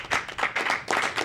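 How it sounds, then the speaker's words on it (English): A crowd applauds a contestant being introduced at a 2016 Pearl City Playoffs drama event: a short, dense round of clapping that swells in several close bursts, fairly loud and with no one talking. "Let's give a round of applause for Brandon"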